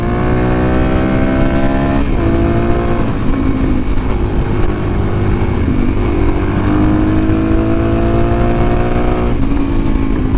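A Suzuki DRZ motorcycle with a massive oil leak runs loudly up close after a wheelie, its engine note rising and falling through repeated gear changes and steady riding, with no talking.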